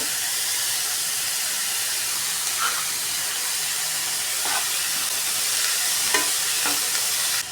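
Onion and tomato frying in a pan for a ladies' finger palya, a loud, continuous hissing sizzle with a few faint stirring clicks scattered through it.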